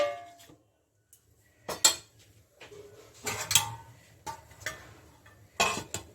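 Metal pot lid clanks onto a cooking pot of Afghani chicken on the stove, a few sharp clattering knocks and clinks spaced apart with quiet gaps between.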